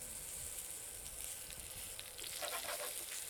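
Potimarron squash pieces sizzle steadily in a pan, a continuous close frying hiss with a slight rise in crackle toward the end, no voices.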